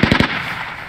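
Covering gunfire in the military shooter game Squad: three sharp, loud shots in quick succession up close, then a ringing, decaying echo.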